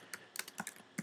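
A computer keyboard is typed on up close, a short burst of about eight quick, light key clicks in an uneven rhythm, alone with no voices.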